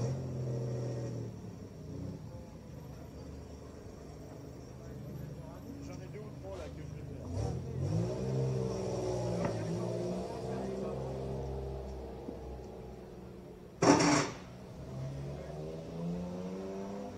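Porsche 911 2-litre rally car at a historic rally start podium, its engine idling and rumbling steadily beneath ongoing talk, with a brief rev swell midway and a sharp clack near the end.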